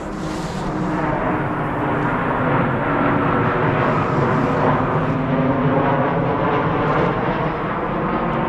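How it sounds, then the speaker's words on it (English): A loud, low jet-engine roar rumbles continuously overhead, swelling slightly as an airplane passes over a campsite, with no voices. "and the planes, they just keep coming."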